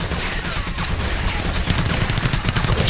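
Rapid bursts of gunfire in the game Brookhaven RP crackle continuously amid a dense, noisy battle mix.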